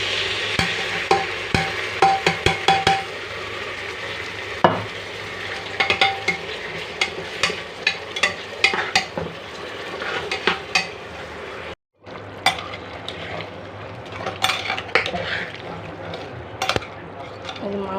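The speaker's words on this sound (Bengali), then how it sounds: "মাংস কষাচ্ছি।" Beef head meat stir-fried with spices in a pot: repeated scraping and clattering of a spoon against the pan over a constant sizzle, close and busy, with a short break near the end and a voice speaking at times.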